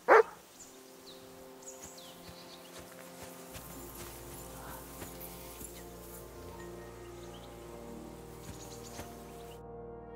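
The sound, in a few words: dog Mutt barking in Kingdom Come: Deliverance 2 video game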